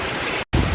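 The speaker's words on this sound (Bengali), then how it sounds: "এই কি জোরে হাওয়া দিচ্ছে" Strong wind gusts with rain beating down, a loud broadband rush that briefly drops out and then returns with heavy low rumbling buffeting.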